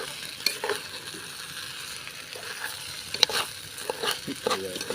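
Rice for arroz caldo is stirred in a pot: close, continuous scraping and swishing with a light sizzle, and sharper clinks toward the end.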